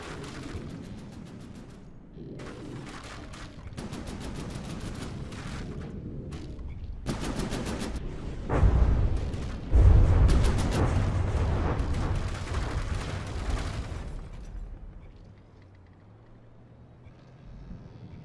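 Turrets fire in the naval combat game From the Depths, with dense bursts of gunfire and booms that swell into a sustained loud barrage in the middle. The barrage then fades to a quiet low hum.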